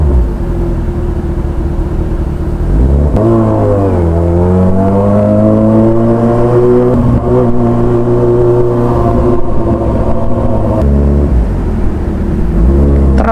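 Road traffic on EDSA heard from inside a vehicle, a loud continuous engine drone with rising and falling revs and gear changes as the vehicle moves through congestion.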